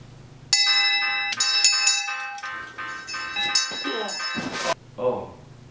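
A bell rings in several bright, metallic strikes with ringing overtones, close and fairly loud, mixed with voices talking and reacting over it.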